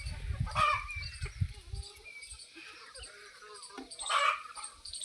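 Free-range hens cluck and call softly nearby in an outdoor farm enclosure, with a low rumbling noise at the start.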